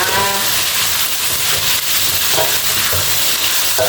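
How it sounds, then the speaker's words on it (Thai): Sun-dried pork frying in a pan with a loud, continuous sizzle and crackle of hot oil, close up, with occasional stirring scrapes. "วันนี้ก็มาทอดหมูแดดเดียวกันค่ะ"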